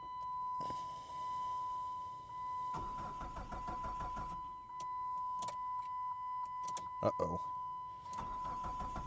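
A 147,000-mile Chrysler PT Cruiser that has sat for two years cranks and catches with a few rough bursts of mid-pitched engine noise, quiet and intermittent, while people talk over it.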